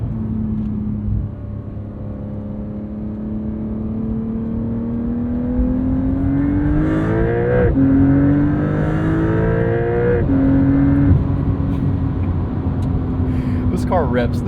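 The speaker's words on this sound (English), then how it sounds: "Car rips." A 2025 Porsche 911 Carrera S with the twin-turbo 992.2 engine in sport mode revs and downshifts, its loud rising and falling engine note blipping between gears, heard from inside the cabin with talking over it.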